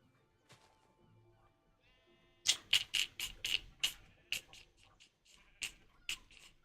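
Sheep in the farming video game Stardew Valley bleat repeatedly in a quick, close series of loud calls after a quiet start, with a few faint clicks and light background tones.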